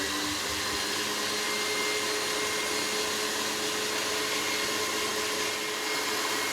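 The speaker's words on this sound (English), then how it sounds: "I'm just gonna whip a tiny bit longer to get stiffer peaks" An electric mixer whips egg whites to stiff peaks for coconut macaroons, a steady, loud, unbroken motor whir with a broad airy hiss that runs the whole time, close up and with no voices.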